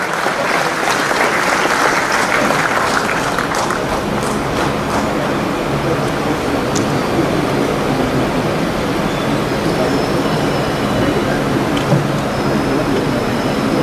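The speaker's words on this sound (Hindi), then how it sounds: "जोरदार तालियों के बीच स्वागत कीजिए" Loud, sustained applause fills a conference hall as a speaker is welcomed on a road and bridge technology occasion, a continuous dense roar of many hands clapping with no let-up throughout.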